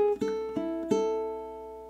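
A ukulele plays one measure of a Venezuelan waltz in low G or baritone tuning: three clear plucked strums close together, then a ringing chord that fades, heard alone.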